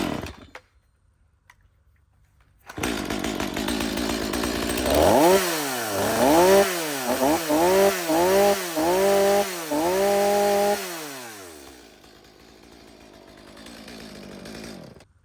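A STIHL MS250 chainsaw starts after a short silence and idles loudly, then is revved repeatedly in rising and falling bursts before dropping back to a rough idle and fading at the end.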